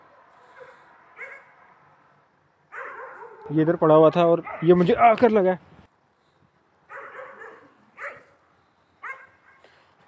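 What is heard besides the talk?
dogs barking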